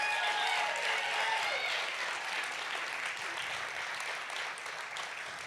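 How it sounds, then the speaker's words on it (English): An audience at a school musical theater production applauds the performers for another round, a dense wash of clapping that starts full and slowly tapers off, fairly quiet overall. "Will you give them one more round of applause?"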